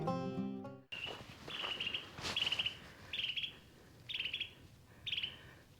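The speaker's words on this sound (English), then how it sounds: "Listen to that bird singing." A songbird sings in Texas woods of old oak, ash, juniper and cedar, repeating short bright trilled phrases about once a second over a quiet outdoor background, with no talking.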